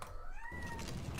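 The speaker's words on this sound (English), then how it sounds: "Please shut up, cat." A cat meows once indoors, a single drawn-out rising-then-falling cry, fairly close and clear over steady background noise from a computer game.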